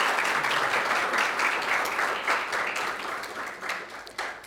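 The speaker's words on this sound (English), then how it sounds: "Round of applause, please." Steady audience applause at a leadership panel discussion welcoming a government minister, a dense, even wash of many hands clapping that holds at a fairly loud level throughout and tapers slightly near the end.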